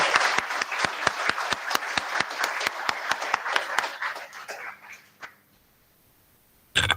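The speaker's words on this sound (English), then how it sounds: "A round of applause." A webinar audience gives a round of applause: steady, close clapping from several people that fades out after about five seconds, then a brief thump near the end.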